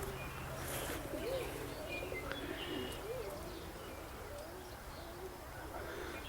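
Racing pigeons coo softly in low wavering calls at moderate distance outdoors, with faint chirps and steady background noise throughout.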